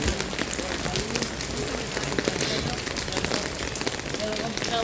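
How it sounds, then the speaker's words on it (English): Pouring rain falls during a morning walk through Torremolinos, a steady wash of drops spattering on surfaces nearby, with crackly splashes throughout and a voice speaking briefly over it. "It's raining, it's pouring."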